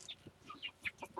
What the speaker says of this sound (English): you see the chickens?